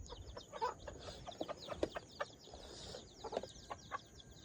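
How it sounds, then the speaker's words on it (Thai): Domestic chickens kept at a field hut cluck in short, irregular bursts, fairly faint and close, with no talking over them. "ไก่ที่เขาเลี้ยงไว้ในเถียงไห่"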